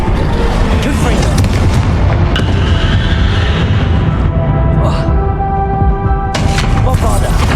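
Booming blasts from the Confringo fire spell in the video game Hogwarts Legacy, during a battle, ringing over dense, loud game music and effects, with a voice speaking over the action.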